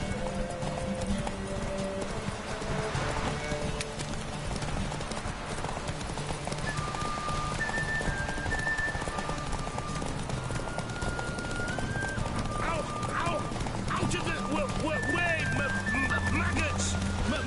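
Roach the horse trotting in The Witcher 3, a steady clip-clop of hooves running throughout over a dense game soundscape, with a voice shouting and talking and occasional whinnying.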